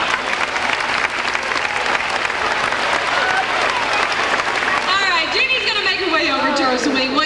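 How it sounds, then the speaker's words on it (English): Audience applause at Universal Studios, a dense, steady clapping from a crowd that continues throughout, with voices rising over it toward the end. "Let's give her a nice round of applause."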